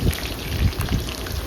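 Onions fry in hot oil, giving off a brief, dense crackling sizzle with scattered pops, close and steady, with no voices.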